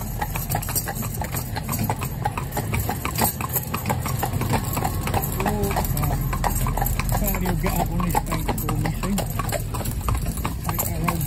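A driving stallion's hooves clip-clop in a steady rhythmic beat as it passes loose mares, with a low engine-like hum throughout and people talking over it.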